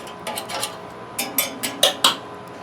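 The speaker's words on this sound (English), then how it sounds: "And I'm just using a regular old skewer to do that." A metal skewer pokes and stirs charcoal and ash in a grill, giving a series of sharp metallic scrapes and clinks that grow louder toward the end.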